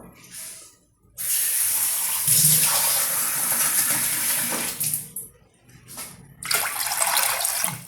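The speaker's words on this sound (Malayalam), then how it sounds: "വെള്ളം ഒഴിക്കുന്നു" Water pours into a large cooking pot for a red prawn dish, a loud rushing stream that runs for several seconds, pauses briefly, then starts again, with no talking.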